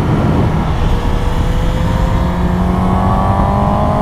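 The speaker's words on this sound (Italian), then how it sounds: "Il motore sale su di giri in modo parecchio fluido." A Suzuki motorcycle engine climbs smoothly through the revs on a winding road, a loud, continuous buzzing drone with rising pitch and heavy wind rush, close and steady throughout.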